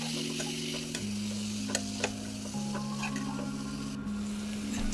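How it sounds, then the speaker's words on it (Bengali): Bata fish masala being sautéed with a splash of water for a Bengali tel jhal curry, a steady close sizzle with a few light spoon scrapes and clicks, no voices. "একটু জল অ্যাড করে দিয়ে এটাকে আরেকটু সময় ভালো করে কষিয়ে নেব।"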